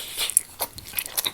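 Someone bites and chews cherry tomato and feta spaghetti with crispy fried sausage, giving a few quick, crunchy, close-up mouth sounds in a brief burst.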